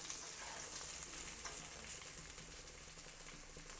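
Spiny gourd slices frying in butter give a soft, steady sizzle with light crackling and occasional faint stirring, close and fairly quiet, no voices.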